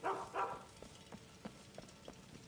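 A dog in a video game barking near a door, a few loud barks at first and then quieter, spaced yips and woofs.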